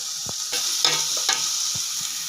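Onions and chillies frying in a pan give off a steady bright sizzle, broken by a few stirring scrapes and clinks.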